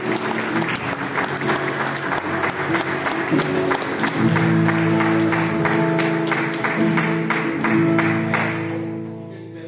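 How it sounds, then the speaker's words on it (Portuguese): A church congregation claps together in praise, a dense, sustained burst of applause from a crowd that swells in the middle and then fades out, with no voices on top. "louve a Deus com as palmas."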